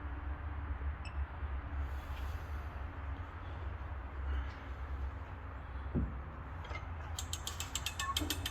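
A torque wrench ratchets as it tightens the cylinder head bolts on a truck with a bent connecting rod, set to 250 Nm on the second pass. A rapid run of faint clicks comes late, over a steady low workshop hum.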